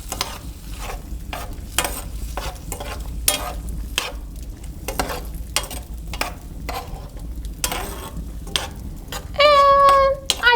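Spices stirred into a vegetable fricassee in a pan in a colonial kitchen: repeated close scraping strokes of a utensil over a steady low sizzle, ending with a brief sharp squeal near the end, no talk.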